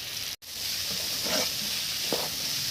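Boiled chickpeas with onion and garlic sizzle in hot oil, a steady close hiss broken by a brief gap and a few soft stirring scrapes.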